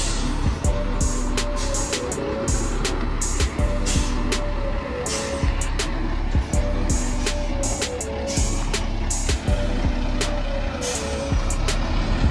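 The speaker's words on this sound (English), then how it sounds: "The driver maneuvers the vehicle around a sharp bend before reversing up a hill" A red logging truck's engine drones steadily as it drives and reverses up a hill, with frequent short clicks and sharp hissing bursts over the running engine.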